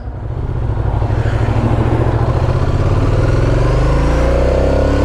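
A 2007 Ducati Monster 695 V-twin motorcycle runs loud and close on a test ride, its engine pulsing with a rapid, even throb that rises in pitch as the bike accelerates.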